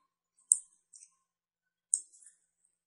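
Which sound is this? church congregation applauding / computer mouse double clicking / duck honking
computer mouse double clicking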